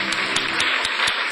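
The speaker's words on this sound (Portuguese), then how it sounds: "vamos dar um aplauso ao Senhor" A church congregation claps together in a quick, dense burst of applause, loud and close, with no talking heard.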